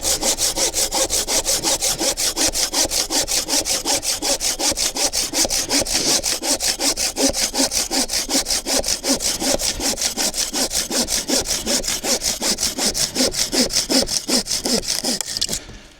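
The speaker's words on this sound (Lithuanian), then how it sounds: "Pabandyti reikia su senu pjūklu," An old hand saw cuts through wood outdoors in a forest with steady, rasping back-and-forth strokes. The strokes repeat rapidly and evenly for about sixteen seconds, loud and close, then stop abruptly.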